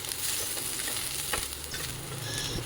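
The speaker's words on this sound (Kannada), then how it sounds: "ಇದು ಚೆನ್ನಾಗಿ ಫ್ರೈ ಆದಮೇಲೆ" Chopped onion and green chilli fry in a pan, a steady close broadband sizzle with faint stirring scrapes throughout, no talking.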